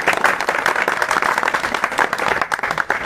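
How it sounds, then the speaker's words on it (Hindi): An audience at a public gathering claps together in a dense, lively patter. The steady, rhythmic applause runs without a break and carries no clear speech. "तो आप लोग ताली बजाइए।"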